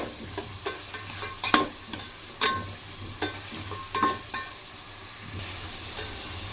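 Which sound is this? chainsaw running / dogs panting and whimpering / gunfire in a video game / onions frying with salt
onions frying with salt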